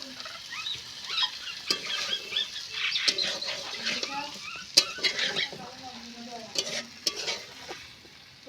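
River fish curry sizzles and spits in a pan after a splash of water, busy crackling and bubbling with scattered stirring clinks and scrapes, moderately close and fairly quiet.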